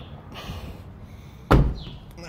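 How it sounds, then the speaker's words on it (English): A car door is opened during hand polishing with Nu Finish, giving one sharp loud thunk of the latch and door after quiet rustling. "Just open the door like there,"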